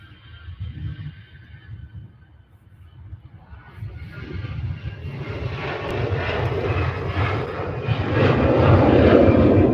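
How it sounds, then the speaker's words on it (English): An EasyJet airliner takes off at Manchester Airport; its engine roar builds steadily from a low rumble into a loud, broad roar that stays high to the end, with no voices. "Go and watch the EasyJet go."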